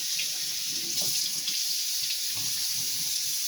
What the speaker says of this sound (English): Now we can wash our pineapple.